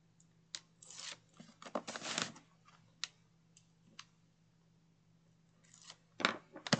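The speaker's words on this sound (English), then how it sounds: "So I'm going to peel up my tape backer." Tape backing is peeled off while gift wrapping: quiet, close crinkling and scratchy rustles in scattered short bursts, with near silence between them.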